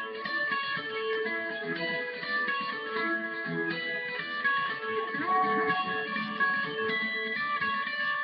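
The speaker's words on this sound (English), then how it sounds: "we'll tend to play a little melody over the top of those chords" Electric lead guitar playing a simple melody with delay over chords, sustained clear notes with echoing repeats ringing together steadily, moderately loud with no voices.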